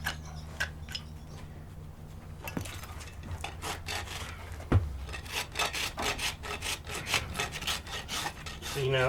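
Farrier's rasp working across a horse's hoof, a rhythmic series of dry scraping strokes at close range, speeding into quick back-and-forth rasping in the second half.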